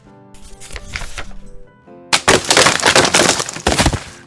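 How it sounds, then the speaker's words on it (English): A sound effect of a snap and crackle, like breaking branches, followed by a much louder burst of sharp cracking and popping; no voices. "and then a very loud pop!"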